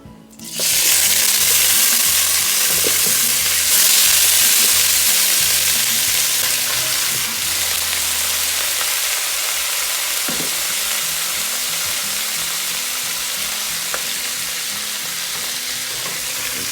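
Mutton pieces go into a hot pan of oil for a junglee mutton dish, setting off a loud, dense sizzle that holds steady and slowly eases, with faint stirring knocks beneath it.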